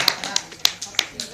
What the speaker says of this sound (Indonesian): tepuk tangan buat Mbak Bella